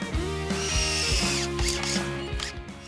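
A power drill whirs in several short bursts, its motor pitch stepping up and down as screws are driven into wood in quick succession, close and clear.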